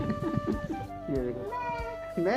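A cat meows repeatedly in drawn-out, wavering cries close by, while a person speaks softly over them.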